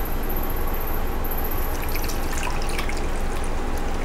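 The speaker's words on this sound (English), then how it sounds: "Check my water again. Add a little bit more water to it." Water is poured into a pea growing tray, a steady close trickle and splash with scattered drips, continuous throughout and with nobody talking.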